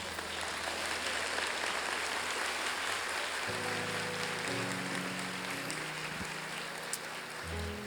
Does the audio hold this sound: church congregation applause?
yes